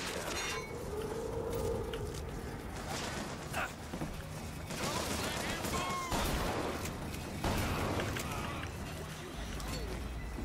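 Shotgun fire in the BioShock Infinite video game: blasts come in clusters amid other combat noise and mechanical clatter, with a voice talking over the action.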